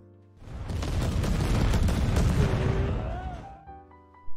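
A deep, rumbling explosion of missiles in a space battle swells and rolls for a few seconds, followed by a faint rising whine and a short thud at the end.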